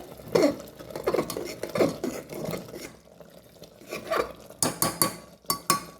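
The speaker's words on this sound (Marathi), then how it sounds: "त्या मिश्रणामध्ये सगळे ड्रायफ्रुट्स आणि तूप टाकून घ्यायचे त्याला हलवून घ्यायचं चांगलं" Wheat kheer with jaggery, dry fruits and ghee being stirred in a pot, with a spoon scraping and clinking against metal in repeated strokes, then a burst of sharper clatter near the end, close and moderately loud.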